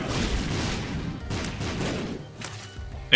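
Mega Bomb explosions in The Binding of Isaac: Repentance, a rapid cluster of heavy booms and rumbling blasts rolling through the first two seconds, then a short lull and a final sharp burst at the end, loud and without speech.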